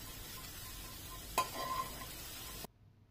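Dried prawns are stirred and dry-roasted in a pan: a faint, close scrape and rustle of a spoon with a soft sizzle, ending abruptly.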